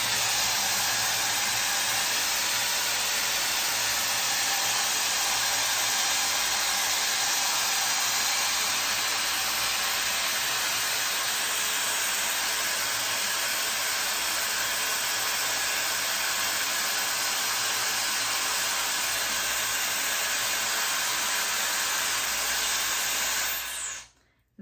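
A Shark hair styling tool blows a loud, steady stream of air for curling hair around its barrel, running continuously at close range with a constant broadband whoosh before cutting off abruptly at the very end.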